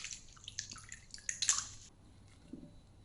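Lemons squeezed and wrung out in a pot of water for Sicilian lemon granita give faint, close dripping and light splashing in a few short bursts, then near silence.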